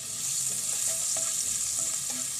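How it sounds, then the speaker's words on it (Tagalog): Sauce cooking in a frying pan already used for fish, a steady close sizzle with soft intermittent stirring scrapes throughout. "dito na rin tayo magluluto ng ating sauce sa ating ginamit na kawali"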